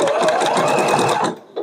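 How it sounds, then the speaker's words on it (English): A sewing machine runs a stay stitch around a fabric applique, a steady, close, fast mechanical whir that stops abruptly near the end. "I started with a stay stitch and I will end with a stay stitch."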